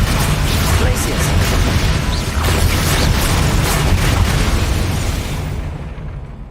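Magic spell blasts from the Hogwarts Legacy video game thunder continuously, dense booming impacts layered with crackling bursts under battle noise, loud and close throughout before easing off at the end.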